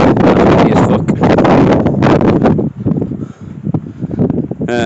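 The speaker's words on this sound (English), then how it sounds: "that's windy as" Strong wind gusts batter the microphone on a walk along a muddy path in Wasdale Valley, Cumbria, a loud roaring buffet that briefly eases midway and then surges back.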